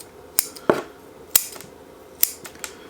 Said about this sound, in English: Cut back some of these roots.